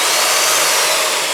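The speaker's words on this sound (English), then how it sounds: "I can actually turn the drill on in mid-air like the Panther" A Rotabroach magnetic drill runs held in mid-air, a loud steady high-pitched motor whine with no talk.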